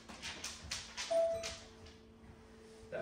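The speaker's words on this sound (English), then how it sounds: "That's the doorbell." A doorbell chimes faintly inside a house, giving a couple of soft, ringing tones over quiet room noise with light knocking-like taps.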